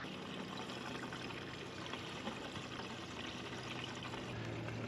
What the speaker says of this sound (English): We are filling water from the dock